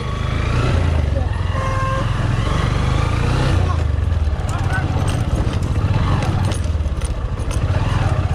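A motorcycle rides along a narrow hill path near Panchgaon, Netrokona, with a steady, loud, low engine rumble and rough broadband noise running throughout.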